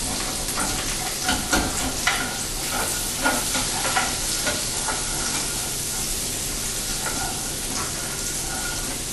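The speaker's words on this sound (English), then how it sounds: "as the butter melts, I will work to loosen up all those tasty brown bits" Butter melts and sizzles in a pan that is not non-stick, with a steady hiss and irregular scraping strokes as a utensil loosens browned bits from turkey scallopini, close and with no talking.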